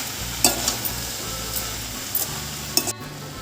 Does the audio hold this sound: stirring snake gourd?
yes